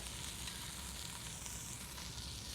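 Pork and onion sizzling hard in a hot pan, a dense, continuous frying hiss with crackle, close and steady for the whole stretch, no talking.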